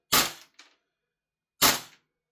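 Two sharp gas blowback shots from an EMG CYMA CGS Salient Arms GRY airsoft rifle being chronographed, loud and close with a quick metallic bolt cycle after the first, the shots about a second and a half apart.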